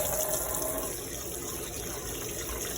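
Running water rinses freshly harvested steelhead eggs, making a continuous soft gushing splash, close and steady throughout, with no speech.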